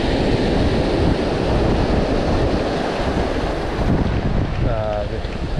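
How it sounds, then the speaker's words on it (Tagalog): Strong sea wind buffets the microphone with loud, constant roaring gusts on a coastal fishing and hiking trip, and a brief voice cuts in near the end. "lakas ng hangin."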